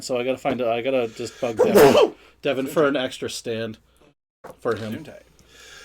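Two quick sneezes from someone nearby, a sharp burst in the middle of ongoing speech, while a person talks before and after.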